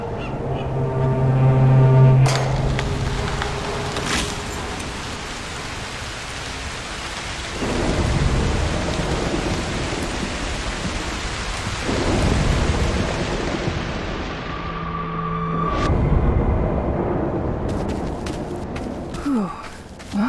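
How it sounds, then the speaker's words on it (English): Thunderstorm in the video game Broken Pieces: steady rain hiss with several deep rolling thunder rumbles swelling and fading, and low horn-like tones beneath. "A storm could help."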